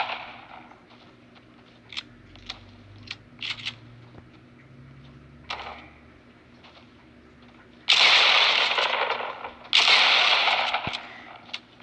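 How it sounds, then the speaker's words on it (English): Shotgun fire from the double pump in Fortnite, a video game: several sharp, scattered shots early on, then two long, loud bursts of blasts near the end, with no talking. "Here I'm going to be showing you guys the double pump and the one shotgun."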